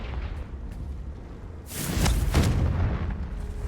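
A Confringo spell blast from Hogwarts Legacy bursts out midway as a sudden loud, booming explosion with a whooshing edge, rising from a low rumbling background and fading over a second or so.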